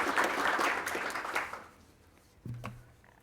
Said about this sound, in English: Round of applause to Medtronic Labs.